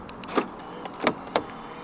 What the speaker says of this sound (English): To lock the car, press the black button on the driver's side door handle.